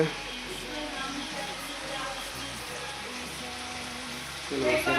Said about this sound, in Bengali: তো এখানে মাসি রান্না করছে